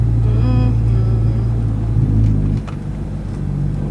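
Lowered stance car engine rumbling loudly and steadily as the driver gives it more gas, with a rising harmonic whine early on, then the engine note drops and eases after about two and a half seconds.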